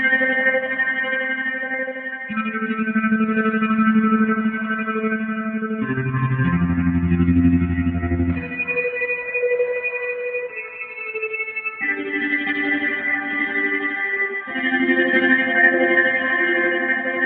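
8Dio Emotional Guitar sampled guitar playing the 'Computer Helicopter' preset, sustained layered tones shifting through chord changes, thick with chorus, echo, distortion and reverb swelling under a modulation wheel, steady and loud throughout.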